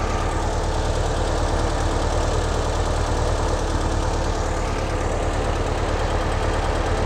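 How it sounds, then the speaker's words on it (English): A Porsche 356 engine fitted with Zenith carburetors idles steadily, a loud continuous mechanical rumble with an even throb and no voices over it. "We're gonna check our idle again really quick just to be certain we're still on the money for everything."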